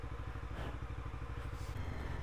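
A Lexmoto LXR 380 SE motorcycle idles on a freezing day with its cooling fan running at full. It gives a steady, close, rhythmic engine thrum under a constant fan whir, with faint clatter and no talking.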